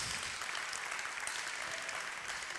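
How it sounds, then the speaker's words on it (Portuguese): A church congregation applauding during a sermon, a continuous dense wash of clapping sustained evenly throughout, with no voices standing out. "Pode aplaudir mesmo, pode aplaudir."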